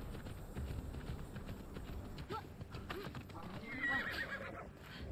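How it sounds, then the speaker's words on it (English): A horse in Immortals Fenyx Rising gives a loud neigh and whinny over steady hoofbeats and ambient game sound, with a brief voice in the background. "I have a horsey."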